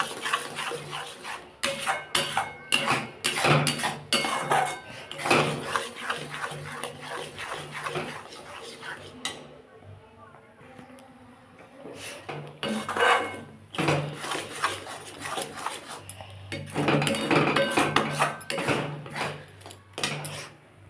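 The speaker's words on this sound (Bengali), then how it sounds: "এটা না নাড়লে বন্ধুরা এটা তলায় ধরে যাবে তাই সমানে এটাকে নাড়তে হবে" A pea filling is stirred continuously in a pan, giving repeated scraping and rubbing strokes in steady bursts, with a brief quieter pause partway through before the stirring resumes.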